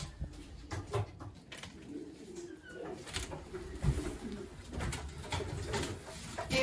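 Racing pigeons coo steadily in a breeding loft, a near, continuous chorus of low rolling calls overlapping one another with no talk.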